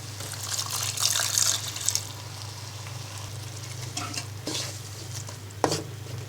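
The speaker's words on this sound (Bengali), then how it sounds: "এবার এক কাপ পরিমাণ সিরকা দিয়ে দিব" Vinegar poured into frying spices and five-spice powder for a Bangladeshi olive pickle, a liquid splash and bubbling sizzle over a low steady hum, with stirring scrapes and a sharp clink near the end.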